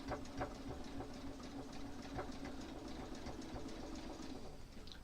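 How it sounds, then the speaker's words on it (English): Sewing machine doing a straight stitch in the ditch on a quilt, with a faint, steady mechanical rattle of fast, regular needle strokes heard quietly and alone. "This is a straight stitch in the ditch."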